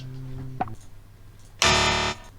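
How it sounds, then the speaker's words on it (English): A loud electric buzzer blares once for about half a second near the end, harsh and steady, after an earlier brief tone and quiet room sounds. "Hit the buzzer."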